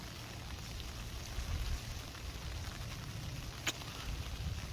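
Rain falls on Wolchulsan mountain as a steady, soft hiss and patter, with a faint low rumble of wind underneath and one brief sharp tick.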